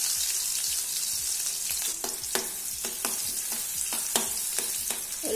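Four or five chopped small onions (shallots) crackle and sizzle in hot coconut oil in a pan for an Angamaly-style mango curry; a close, steady frying hiss is punctuated by sharp stirring clicks and taps against the pan.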